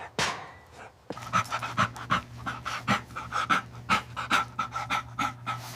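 A dog pants heavily and rapidly at close range, a steady rhythm of quick breathy huffs following a brief sound at the start.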